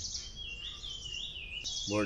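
A long, sustained high birdsong trill wavers on and on at a farm stay in Kankavali, Maharashtra, joined near the end by a short low voiced sound.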